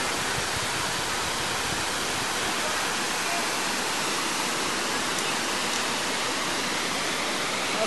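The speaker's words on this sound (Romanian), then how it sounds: "Uite, eu băgat picior în cascadă." Steady, loud broadband rush of a small mountain waterfall in July, continuous and close, with no voices heard over it.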